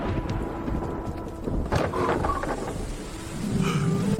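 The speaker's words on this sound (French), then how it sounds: "Il pleut si fort, il ne tiendra pas le coup." Heavy rain pours steadily outdoors while thunder rumbles low underneath, a dense, continuous downpour with no voices.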